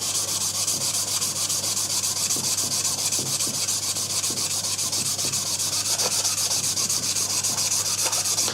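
Part of an HW97KT air rifle is sanded with 600 grit paper in a steady, gentle back-and-forth rub. The abrasive scratching is close and continuous, with no talk.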